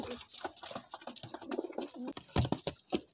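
Golden pigeons coo in a series of soft, low throaty calls, with other bird noises and some rustling and clatter close by, no talk.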